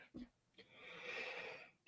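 A single short sneeze bursts out near the mic during a motorsport talk show, quick and sharp, between brief breaths and a bit of muffled noise.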